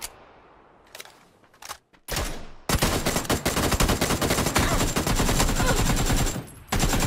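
Gunfire in the video game PUBG starts as a few isolated sharp shots, then turns into a loud, dense run of rapid automatic fire lasting several seconds before breaking off briefly and returning.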